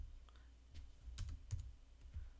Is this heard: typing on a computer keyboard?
yes